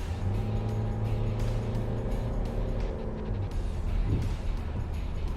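A 2005 Mercedes-Benz Vito 115 CDI diesel van accelerates and overtakes, heard from inside as a steady, loud engine and road drone with a low rumble throughout.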